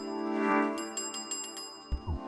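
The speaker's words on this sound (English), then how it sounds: "we can just ring the bell a bunch" A hotel desk bell rung repeatedly in the Celeste video game, several quick bright dings over a sustained musical tone, with a few thuds near the end.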